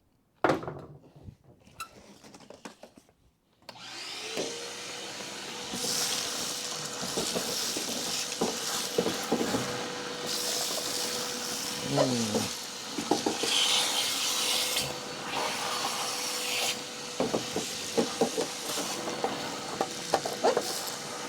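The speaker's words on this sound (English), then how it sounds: "Shop vac." A shop vac runs steadily in a car restoration shop working on a crew cab Charger, a loud continuous rushing hiss with a faint steady whine that starts abruptly after a few seconds of quiet knocks and carries on with scraping bumps.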